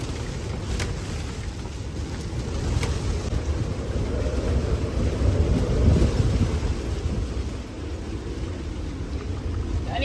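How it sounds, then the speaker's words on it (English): Storm wind buffets a sailing boat off Corsica, a loud, continuous low roar with gusty swells and occasional creaks and knocks, no one talking. "Poor Lulu's first storm"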